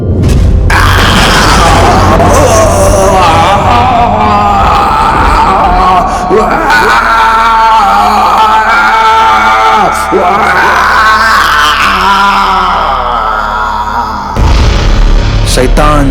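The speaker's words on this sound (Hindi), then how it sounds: "शैतान चिल्लाता हुआ जलने लगा और उस आग में भस्म हो गया।" A demon screams as it burns in a Hindi horror story: a loud, sustained, distorted howling roar with rumbling booms underneath, holding for about fourteen seconds before a brief break.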